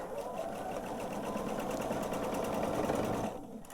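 A sewing machine stitches the long borders of a quilted table runner in a fast, steady whirring rattle, close and loud, then slows and stops abruptly near the end.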